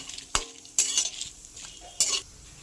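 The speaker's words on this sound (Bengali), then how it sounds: "এইটা ভাজার সময় কিন্তু তেল দেওয়ার কোনো দরকার নেই, তেল ছাড়াই হালকা করে ভেজে নিতে হবে" Dried shrimp dry-roasts in a pan without oil, stirred with a utensil that gives three or four sharp scraping strokes against the pan over a faint, quiet sizzle.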